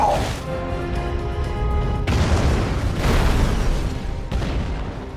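An action-film explosion: a loud, heavy boom with crashing rumble that swells and sustains, followed by further blasts, dense and close.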